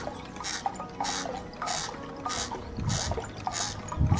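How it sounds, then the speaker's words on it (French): A homemade water pump runs on its own, with water trickling and dripping in a steady rhythm of repeating splashy bursts roughly every half second, close and moderately loud. "Ça fonctionne tout seul. C'est une pompe à eau."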